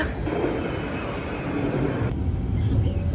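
A tram rumbles at an underground stop in Vienna, a steady enclosed mechanical roar with a high whine that cuts out partway, leaving lower rumbling.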